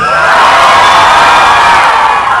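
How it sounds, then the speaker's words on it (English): A live audience cheers and whoops loudly for a contestant in a show-of-cheers vote, a dense, continuous roar of voices held at full level throughout. "if you like JD with her bendy thumb, give us a cheer now"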